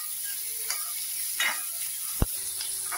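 Onion sautéing with half a spoon of salt in a pan for a radish poriyal, a soft steady sizzle with a few light stirring scrapes and one sharp click near the end, no talking.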